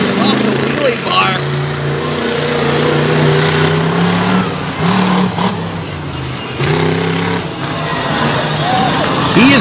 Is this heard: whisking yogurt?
no